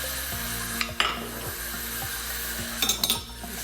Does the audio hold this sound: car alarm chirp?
no